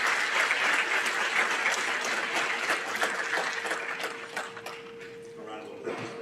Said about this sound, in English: A round of applause for our science award.